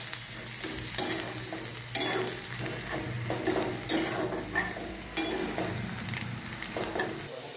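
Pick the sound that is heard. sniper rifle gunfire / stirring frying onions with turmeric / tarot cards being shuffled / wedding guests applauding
stirring frying onions with turmeric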